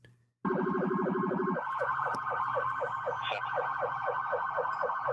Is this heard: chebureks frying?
no